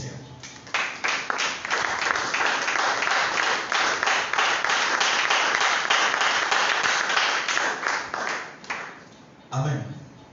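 A church congregation bursts into loud applause, many hands clapping in a dense, sustained roar for several seconds before tapering off, with a voice rising briefly at the end.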